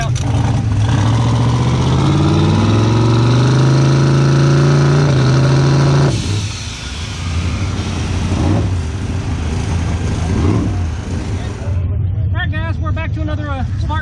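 A car engine with a blow-through carburettor revs at a racetrack, a loud low roar rising in pitch then dropping back to a rough idle, with a voice briefly near the end.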